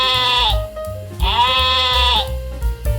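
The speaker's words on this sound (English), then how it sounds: "It's sheep." A sheep bleats twice, loud and close, each call a drawn-out wavering cry with a short pause between them.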